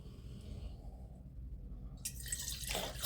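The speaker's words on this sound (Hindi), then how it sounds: "अब इसके अंदर हम डालेंगे सादा जल।" Plain water is poured into a clay kalash pot for a Navratri ritual, with faint trickles first and then a louder, splashing stream toward the end, close by and without talk.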